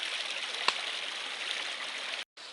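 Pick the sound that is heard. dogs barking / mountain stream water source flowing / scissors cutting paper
mountain stream water source flowing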